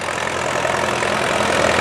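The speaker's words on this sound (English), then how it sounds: "Got a couple case tractors down there with an International behind them." Case and International tractors idle at a county fair, a steady dense engine rumble with a low throb and no breaks, fairly close and loud.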